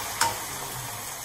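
Garlic and ginger frying in oil for chicken pickle, a brief steady sizzle with one sharp utensil tap near the start, close.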